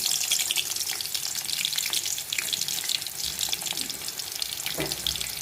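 Garlic fries in a pan with a loud, steady hiss and crackle that fills the whole stretch, close up with no voices.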